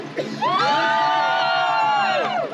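Car show audience roars and whoops for a Honda, a loud sustained wall of cheering voices with shrill yells swelling after a brief start and holding steady to the end.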